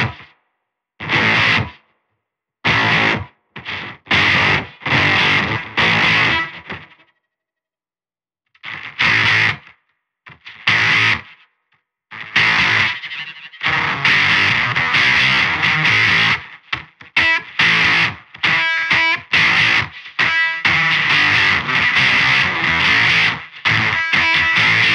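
An electric guitar runs through a Noise Engineering Dystorpia distortion/fuzz pedal with fold turned up and a gated envelope, giving harsh, buzzy bursts that cut off abruptly into silence, then longer choppy, sputtering strums played loud and alone.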